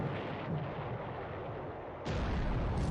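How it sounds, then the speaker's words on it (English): Torpedo hits on British carriers in War in the Pacific: Admiral Edition, heard as a steady low rumbling roar that swells into a louder, fuller blast near the end, with no voices. "Yeah, these are torpedoes."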